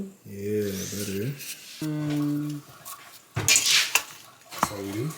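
Apple pie filling is stirred in a bowl at home, producing scraping and clinking of a utensil against the bowl in short bursts, with people talking in between.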